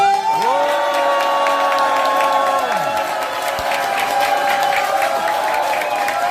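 At a launch ceremony for an emergency committee with a book concert, a large audience applauds and cheers under loud, sustained musical tones. The crowd noise holds steadily beneath the music throughout.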